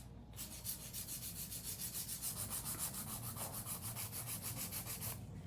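A steady high-pitched electric nail drill whirs continuously with a rapid pulsing grind as it files acrylic nails, close and fairly loud, with no talking.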